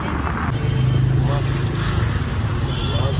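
Riding on a motor scooter along a road, with steady engine and road rumble and rushing wind running loud and close throughout.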